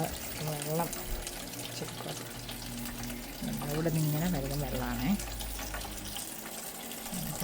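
Water running and splashing from a tap or hose onto garden plants, steady and close, with people talking over it.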